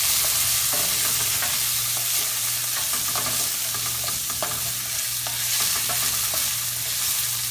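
About three cloves of chopped garlic sizzle steadily in a pan of Italian sausage for a farfalle pasta sauce, with close scraping stirs and small clicks over a constant bright hiss, no talking.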